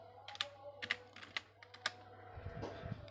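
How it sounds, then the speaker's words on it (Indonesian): Keys tap on a laptop keyboard while an FTP command is entered at a command prompt, in quick, light, irregular clicks that are close and faint, followed by a low murmur. "Di sini kita masuk ke command prompt, lalu kita ketikkan ftp unilever.com."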